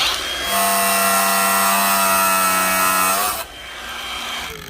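A power tool cuts through a steel fan blade, a loud, close, sustained whine with strong tonal harmonics lasting about three seconds before stopping abruptly, followed by a quieter mechanical hum.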